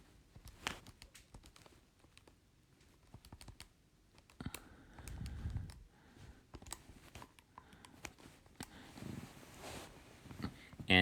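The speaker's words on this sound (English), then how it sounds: "we're going to type all that in the calculator." Quick, light button taps keying figures into a calculator during a pre-calculus exponential-growth problem, coming in irregular bursts of small clicks with soft handling noise, close and quiet, with no one speaking.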